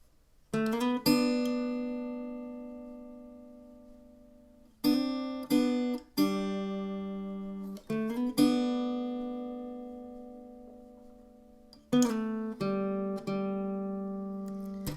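A guitar plays the lead intro of a song, with clear picked single notes ringing out in short phrases and gaps of sustain between them, close and alone with no voices.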